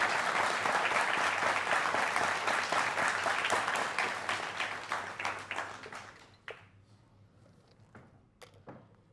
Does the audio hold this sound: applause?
yes